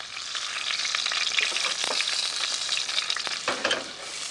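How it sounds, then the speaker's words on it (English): Onions, celery and carrot softening in butter in a pan, a dense steady sizzle with occasional stirring scrapes and clicks, close and with no talking. "a little butter is used to soften a mirepoix in the same pan"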